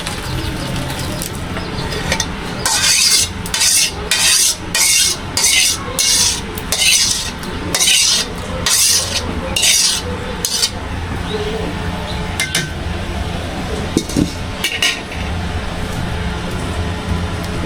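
Cooked noodles are tipped into a spiced sauce in a pan in a village kitchen, with a run of rhythmic scraping and clattering bursts near the middle over steady low background noise, then quieter intermittent clinks.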